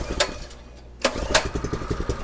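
Predator 212cc minibike engine starting: a short pull with a stutter, then the small single-cylinder engine catches and settles into a rapid, close, loud chugging idle.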